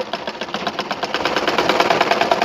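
A sewing machine stitching a Quran cover, a fast even mechanical chatter of needle strokes, close and fairly loud, with no talk.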